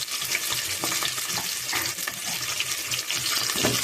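Chopped onions and green chillies fry loudly in hot oil after the tempering spices for sambar, giving a dense, bright, continuous sizzle with stirring scrapes and no voices.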